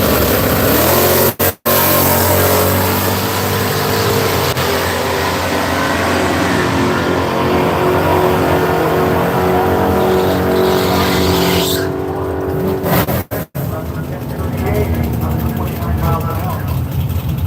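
A Chevy race car roars loudly and continuously at the Seattle International Raceway drag strip, its engine close and sustained throughout, with people talking over the noise.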